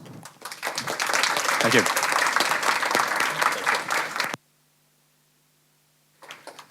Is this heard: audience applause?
yes